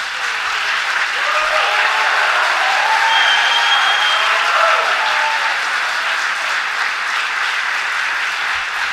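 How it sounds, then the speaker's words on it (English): At a high school spring concert, the audience gives the standing seniors a loud, sustained round of applause, dense even clapping from a large crowd with faint voices mixed in, holding steady throughout. "So seniors, can you please just stand for a brief round of applause?"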